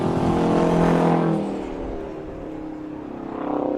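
A 1980 Kenworth W900 semi truck races around a stadium speedway, its big engine roaring loud as it passes close, then fading into a distant drone before rising again.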